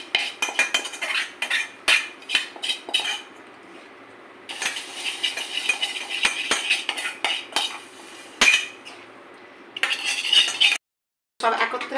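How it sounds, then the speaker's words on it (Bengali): Metal spatula scraping and clinking against a pan while egg tadka is stirred, irregular bursts of scrapes and taps with short pauses, close and fairly loud, no talking. "সব একত্রে আমি একটুখানি খুন্তির সাহায্যে মিশিয়ে নেব।"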